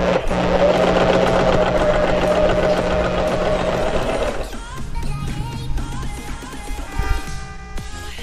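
A portable sewing machine with a gathering ruffle foot stitches pleats, a steady close mechanical whir for about four seconds, then slower, lighter clicking of the needle and foot.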